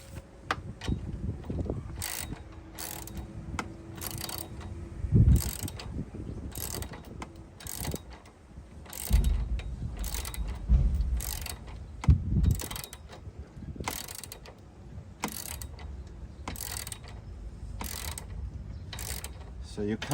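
A ratchet wrench with a 9/16 socket tightens bolts on a Baja Designs LP9 Pro light mount fitted to a CAtuned Hammerhead bumper on a Sprinter van. It gives repeated sharp clicking bursts and occasional clunks, close and fairly loud, with no talk.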